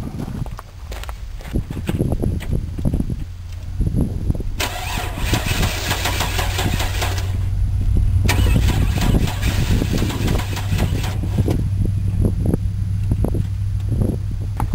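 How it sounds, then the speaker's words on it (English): A car engine cranks and starts with rough, uneven clattering and knocking, then settles into a loud, steady idle with irregular ticking and tapping bursts suggesting a fault, close up throughout. "Does your engine sound like this?"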